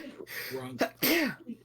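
A single sharp human sneeze, close and loud, set between snatches of nearby talking.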